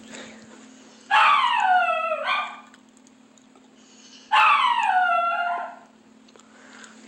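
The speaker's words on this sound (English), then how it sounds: "And then when I leave, he just barks even louder." A dog gives two long, loud bursts of barking and yelping, each lasting over a second, with a steady low hum in the quiet between them.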